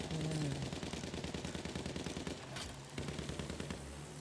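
Enemy gunfire in a Battlefield 1 battle: rapid, steady machine-gun bursts chatter close and loud, with a brief pause before the firing resumes.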